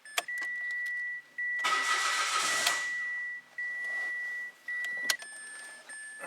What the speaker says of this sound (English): Let's crank it, run it, see what it looks like.